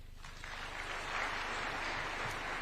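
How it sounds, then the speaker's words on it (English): Audience applause at an award ceremony at State House, Nairobi, a steady, fairly faint wash of clapping from a large crowd heard throughout. "Another round of applause for such wonderful testimonials."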